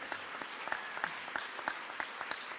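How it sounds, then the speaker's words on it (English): An audience at an 8th grade recognition ceremony claps in a loose, uneven rhythm, with many individual hand claps standing out over a steady background of applause. "You can give another round of applause."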